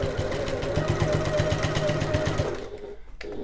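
Domestic sewing machine stitching a basting line along the end of fabric for a zip pouch, a steady rapid mechanical whir with regular stitch pulses, close and loud, stopping near the end.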